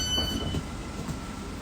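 Interior of a moving passenger train near London Bridge, with a steady low rumble of the carriage and faint high squealing tones early on, a continuous hum with no talking.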